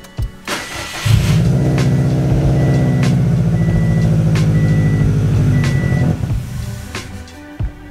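A 2006 Subaru WRX engine, just fitted with new injectors, cranks and catches, runs at a steady idle for about five seconds, then sputters and dies, leaving near silence.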